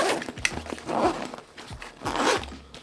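AquaGuard zippers on a Code of Bell X-TYPE backpack being drawn around the bag in several quick pulls, a close scratchy rasp repeating in bursts with brief pauses, no talk.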